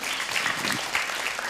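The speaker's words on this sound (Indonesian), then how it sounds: "Tepuk tangan dulu." An audience claps at an Islamic talk with an ustadz, a short steady burst of applause from a gathered crowd.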